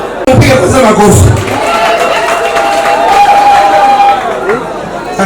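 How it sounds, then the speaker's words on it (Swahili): An audience in a crowded hall breaks into applause mixed with cheering and chatter, a loud, steady clatter of clapping, with voices calling out over it. "mpige kwanza makofi"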